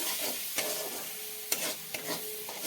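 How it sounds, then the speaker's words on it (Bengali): Masala with chopped chili sizzles in a pan over medium heat as it is stirred for paneer masala, a close, steady frying hiss broken by a few scraping strokes of the spoon. "আর লঙ্কা কুটো। নাড়তে থাকবো।"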